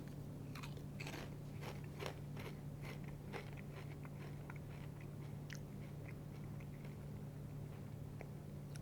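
Hot and spicy Lay's potato chips being bitten and crunched up close, a series of sharp, crisp crunches at an irregular chewing rhythm over a steady low background hum, with no talking.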